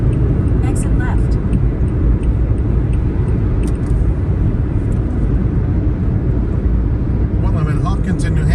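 Steady, loud road rumble from inside a car cruising along Interstate 93 in New Hampshire, continuous tire and engine drone with someone talking over it.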